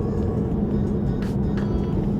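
A 2018 Chevrolet Camaro ZL1 on its first test drive after a rebuild, its engine giving a steady low rumble heard from inside the car, with a few brief knocks and rattles over it.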